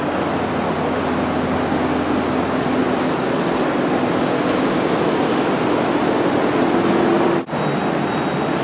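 An industrial machine at a steel plant spins soaking-wet material to wring the water out, a loud, steady broadband rush and rumble like rushing water that holds constant, then cuts briefly near the end.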